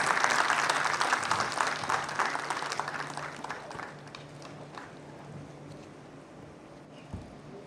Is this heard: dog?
no